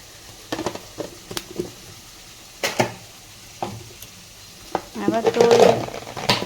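Chili powder being stirred into tamarind in a cooking pan, with intermittent scraping and clinks of a utensil, a burst of louder stirring near the end, close and moderately loud.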